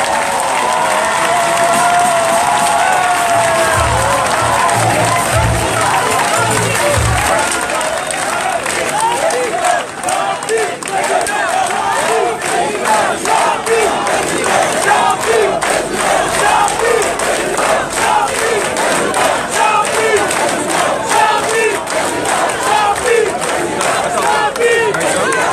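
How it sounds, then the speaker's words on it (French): A large crowd at a political rally in Libreville gives the president an ovation, with sustained loud cheering, shouting and applause that keep going, and a voice on a loudspeaker speaking through the noise. "je vous demande de faire une ovation pour notre président"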